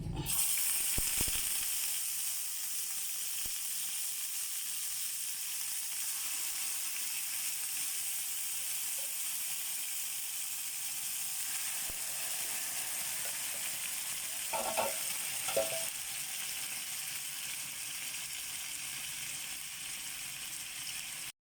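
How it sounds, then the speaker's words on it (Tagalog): Marinated pork barbecue sizzles steadily in a pan over low heat, a constant close frying hiss with a couple of faint scrapes partway through and nobody talking. "At dahil mainit na siya, ilalagay ko na ang pork."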